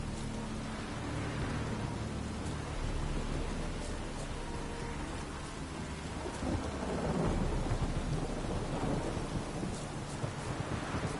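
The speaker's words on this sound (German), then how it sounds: "Gibt es eigentlich irgendeinen Ort in dem Spiel, wo es nicht dauernd regnet?" Steady heavy rain and rolling thunder in The Witcher 3, a dense continuous wash of downpour with a deeper rumble swelling near the end, no voices over it.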